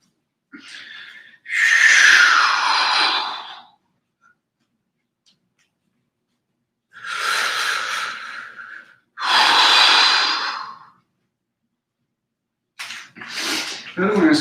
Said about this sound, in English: Exhaling all the way.